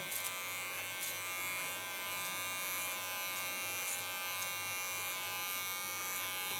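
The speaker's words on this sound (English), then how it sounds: "Take my large Kiona clipper." A large Kiona electric hair clipper buzzes in a steady, close, unbroken drone while trimming the underside of short hair during a salon cut, with no talking.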